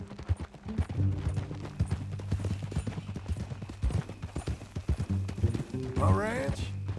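Horse hooves clip-clopping in Red Dead Redemption 2 as riders set off together, rhythmic close hoofbeats under intermittent talking, with a brief rising whinny-like cry near the end.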